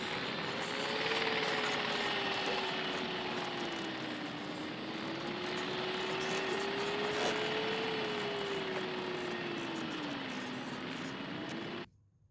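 Electric zeppelin engine turning a propeller, a steady close hum with a gently wavering whine over broadband airy rush, continuous and alone until it cuts off abruptly at the end.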